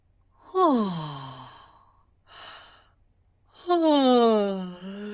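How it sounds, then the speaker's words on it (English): A person performs deliberate fake yawns, two long, sighing, falling voiced breaths with a softer exhale between them, close and clear with no other talk. "So take a moment and do a fake yawn."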